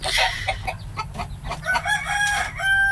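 A McLean Sweater bulik rooster gives a short, close crow alongside clucking fowl nearby.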